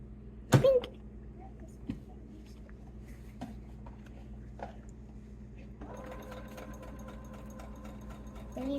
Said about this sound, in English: Then you sew it off.